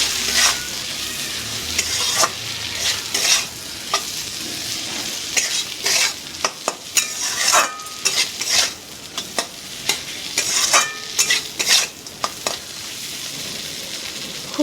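A spoon stirring fried egg bhujia in a hot pan, repeated scraping strokes against the metal over a soft constant sizzle, close and fairly loud with no talking.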